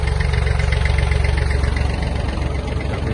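A Yanmar AF-24 Japanese mini tractor runs with its power take-off engaged, turning the driveshaft and mower blades: a steady, loud, close diesel drone with an even low rumble throughout and no talk.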